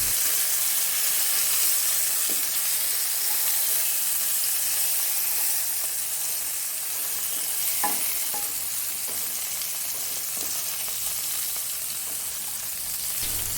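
Brinjal slices fry in a pan for a brinjal roast, a steady close sizzle and hiss running throughout, with a few soft clinks and scrapes as the pieces are turned over.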